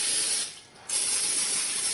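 A cooking spray can hisses in two close bursts separated by a brief pause, spraying a tortilla press; the sound is fairly quiet and no one speaks.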